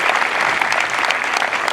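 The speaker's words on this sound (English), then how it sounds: "join me in a round of applause for these folks right here and say thank you for your support" A large outdoor crowd at an Air Force basic military training parade claps loudly and continuously, a bright, steady burst of applause with no speech over it.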